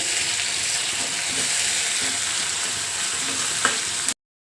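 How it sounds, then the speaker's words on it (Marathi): Capsicum and mixed vegetables sauté over high heat in a hot pan, giving a steady, close broadband sizzle with faint stirring scrapes that runs unbroken for about four seconds and then cuts off abruptly. "पहा आता ह्या भाज्या मी आधी परतवून घेते"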